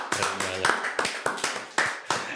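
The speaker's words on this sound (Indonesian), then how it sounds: "Tepuk tangan dulu." Audience applause at a creative-business talk event in Papua, with sharp hand claps bursting out repeatedly in short uneven waves under voices and cheering.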